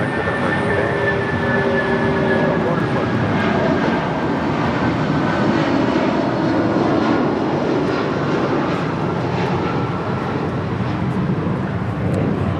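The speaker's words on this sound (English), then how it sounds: "This is United Airlines 667 departing to Newark on a 757-200." A United Airlines Boeing 757-200 jet departs LAX, its engines a loud, steady roar that holds for the whole stretch with no voices over it.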